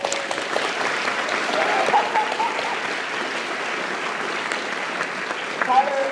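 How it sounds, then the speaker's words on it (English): An audience at a VidCon 2018 talk applauds in a steady, moderately loud round of clapping that holds evenly throughout, with a few faint voices and whoops scattered under it. "Let's give Tyler a round of applause."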